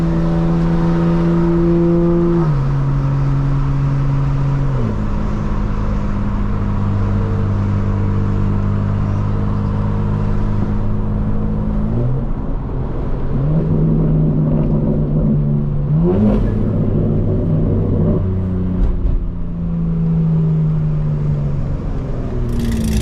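Loud in-cabin drone of a 2025 BMW M4 Competition with a CS tune, rear-wheel drive, accelerating hard through a series of rising gear pulls with distinct shifts between them, the engine note stepping up again and again.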